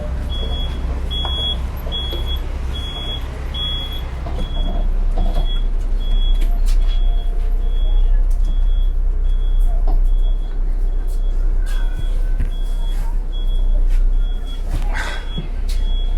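Steady engine drone and rumble fill the cabin of an air-conditioned bus in Cambodia, with repeated electronic beeps in the first few seconds and occasional clicks and rattles as it drives.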